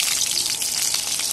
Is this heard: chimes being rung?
no